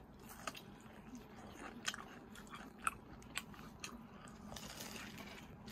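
Someone bites into and chews hot crispy KFC fried chicken, with repeated sharp crunches at irregular intervals over quiet chewing, close to the microphone.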